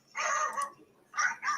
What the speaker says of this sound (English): He runs away and barks.